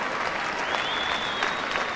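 A rugby crowd at Odsal stadium applauds steadily for the Yorkshire side at a Yorkshire versus Lancashire match, a dense, continuous wash of clapping filling the stadium.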